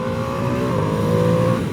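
Engine induction roar from a 2025 Ducati Panigale V2S sports bike, heard from the cockpit while riding, a dense, steady growl at high revs that holds loud and even for under two seconds.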